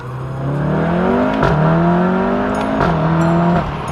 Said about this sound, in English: first gear pull